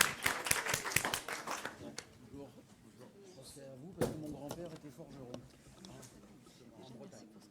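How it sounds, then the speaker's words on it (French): Entrepreneurs at a business gathering clap for themselves in a short burst of loud, sharp claps in the first two seconds, then the applause fades under ongoing talk with a few scattered knocks. "Applaudissons-nous"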